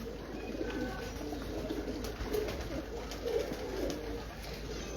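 Antique breeder pigeons belonging to Tayyab Mehar of Lahore coo softly and steadily in low, rolling phrases, several birds overlapping close by against a constant background hiss.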